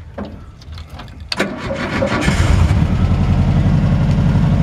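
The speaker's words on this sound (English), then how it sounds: "Fires right up. Of course, the engine's right behind us, so it's kind of loud" A few clicks and a cranking sputter, then the engine of a 1934 Dodge rat rod on a 1966 Volkswagen chassis, mounted right behind the seats, catches and settles into a loud, close, rumbling idle.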